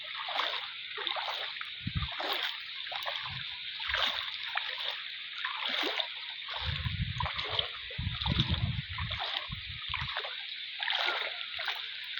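Knee-deep floodwater over a brick road being splashed as a fishing net is cast, with repeated watery swishes and splashes over a steady outdoor hiss.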